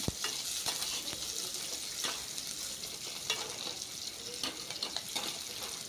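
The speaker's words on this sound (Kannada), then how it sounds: "ಈರುಳ್ಳಿ ಹಾಕ್ಕೊಂಡು ಫ್ರೈ ಮಾಡ್ಕೊಳ್ತೀನಿ" Onions fry in a pan for an okra sambar, giving a steady crackling sizzle throughout with scattered soft scrapes and stirring knocks, close and moderately loud.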